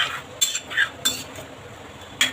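A spoon clinks and scrapes in a pan while stirring chole masala curry, with a few short metallic taps close by.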